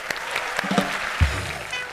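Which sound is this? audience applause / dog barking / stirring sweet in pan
audience applause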